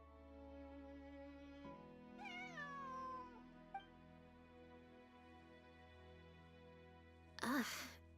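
A cat meows in the video game Genshin Impact, one clear rising-falling meow in the middle over quiet game background music, followed later by a short louder burst.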